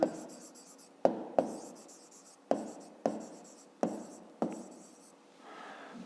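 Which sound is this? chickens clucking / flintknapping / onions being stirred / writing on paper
writing on paper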